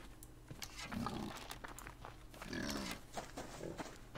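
A pig in the survival video game Subsistence grunts and squeals in two loud, close bursts near the start and middle, with softer snorts and rustling between them and no talking.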